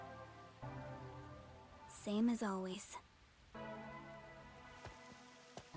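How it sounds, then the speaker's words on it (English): Steady rain falls in the video game Rain Code, a soft continuous patter that runs through the whole stretch while a voice speaks briefly in the middle. "More rain."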